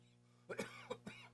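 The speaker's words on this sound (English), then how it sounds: "I got a cough." A man in a radio studio coughs three or four times in quick, close bursts, fairly quiet, with no talking over it.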